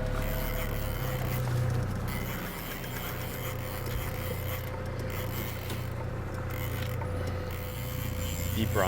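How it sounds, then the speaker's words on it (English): An outboard motor on a sport fishing boat is lowered during chinook and coho fishing, giving a steady mechanical whir and grind with a low engine hum throughout, loud and close, with no talk. "I just dropped the motor."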